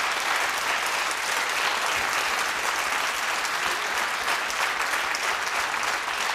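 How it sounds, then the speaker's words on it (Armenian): Sustained applause from a studio audience for the TV Band musicians, a dense, steady clatter of many hands clapping, loud and even throughout with no pauses. "Իսկ այժմ եկեք ծափարենք մեր երաժիշտներին,"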